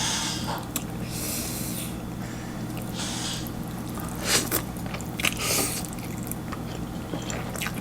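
Someone bites and chews young chili dipped in shrimp paste, with close, moist crunching bursts repeating irregularly over a constant low background hum.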